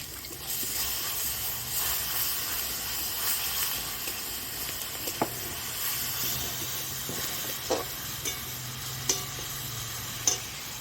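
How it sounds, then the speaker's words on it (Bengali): Garlic paste sizzling in hot oil with cumin, bay leaf and dried chili, cooking the base for a soal fish curry; a steady broadband hiss of frying continues throughout, with a few sharp clicks of stirring or spatters near the end. "এবার দিচ্ছি রসুন বাটা দিয়ে দিচ্ছি"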